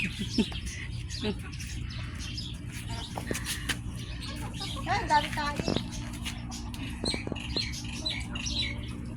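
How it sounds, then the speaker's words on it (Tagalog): Several birds chirp and squawk nearby in quick, scattered calls, with people talking over them. "Ang daming ibon"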